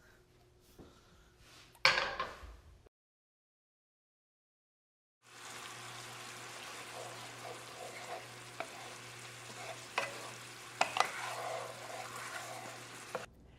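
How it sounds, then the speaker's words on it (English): Meatballs simmer in a tart cherry jam sauce on the stove with a soft, steady sizzle and bubbling. The clip opens with a pan clank, then a silent gap, then quiet stirring and faint utensil taps. "I'm going to return this to the stove, and we're going to finish cooking up the sauce"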